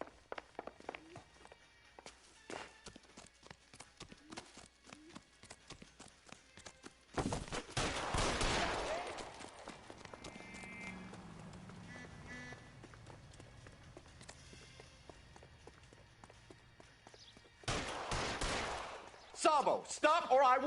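Gunfire in the L.A. Noire detective game: a loud burst near the middle and another toward the end stand out over quieter background game sounds, with scattered clicks and steps between them.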